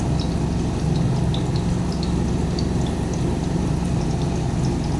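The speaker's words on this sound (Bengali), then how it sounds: "চলো কালি জিরা ফোড়ন দিয়ে দিচ্ছি" Nigella seeds sizzle in hot oil for tempering, a steady close hiss scattered with small crackling pops throughout.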